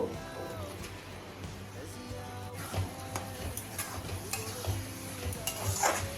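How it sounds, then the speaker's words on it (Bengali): Kabuli chickpeas stirred into a masala thickened with cashew paste in a pan, with a soft sizzle, scraping stirs and clinks under a steady background hum. "এবার আমি কাবলি ছোলা মশলার মধ্যে দিয়ে দেব।"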